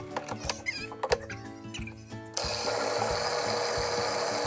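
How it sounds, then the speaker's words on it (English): Food processor blending black bean brownie batter, starting up abruptly partway through with a steady loud whir and churn after some earlier clattering and handling noises. "get it nice and mixed up and blend again."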